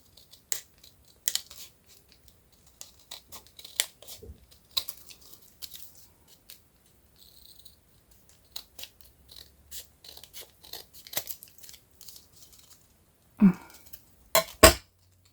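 Scissors snip through patterned craft paper in short, crisp cuts spaced irregularly across a quiet room, with some paper rustling and a louder cluster of snips and handling near the end.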